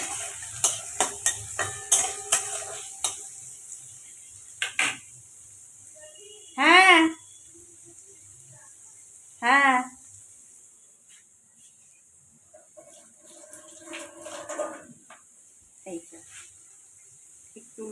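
Onions and green chillies being stirred in a frying pan: a run of sharp metallic clinks, then two loud rasping scrapes and scattered softer scrapes, close by with little sizzle.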